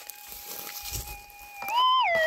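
Metal detector over a gold find, heard through headphones: a thin steady electronic tone that holds level, then warbles and bends up and down near the end, with faint handling and outdoor noise beneath.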